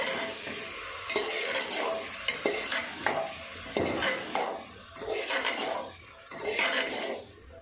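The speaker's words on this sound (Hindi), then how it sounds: "फास्ट गैस पे भूनेंगे।" Boiled kabuli chana roasting in a pan over a high flame, stirred steadily with repeated scraping and clinking strokes over a constant sizzle, close and fairly quiet, with no talking.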